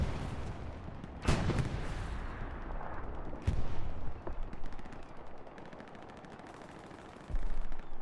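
Battle in the video game Hell Let Loose on an Omaha map: a bombing run on a trench line booms with sharp gunfire cracks and rumbling explosions, loud and dense throughout.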